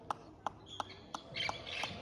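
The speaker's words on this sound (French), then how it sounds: "les oiseaux de partout quoi" Birds and parrots call in the Guatemalan jungle near the Tikal Maya temples, a series of four evenly spaced sharp squawks followed by a busier wash of chirps.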